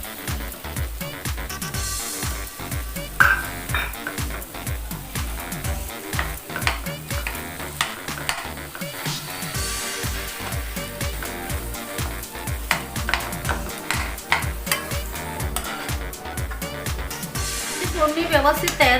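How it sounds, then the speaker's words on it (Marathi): Onion-coconut paste sizzling in hot oil during tempering for an egg curry, stirred with steady scraping and crackling that holds for the whole stretch, with someone speaking over it. "आता मी कांद्या खोबऱ्याचं वाटण टाकते."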